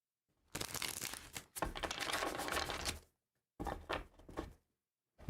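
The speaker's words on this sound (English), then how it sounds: "One more shuffle here." Bursts of riffling and flapping as a deck of tarot cards is shuffled, several quick crisp shuffles separated by short pauses, close by.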